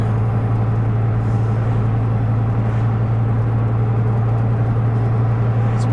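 A 1997 Dodge Viper GTS coupe with a six-speed T56 gearbox cruises in fifth gear. It gives a steady, low engine drone with road hum inside the cabin, with no talking.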